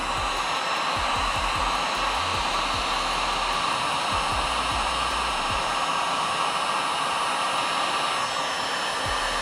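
A heat gun blows steadily on a plastic center console of a third-generation Camaro, a constant loud whooshing airflow with no pauses, close to the microphone and alone without talk.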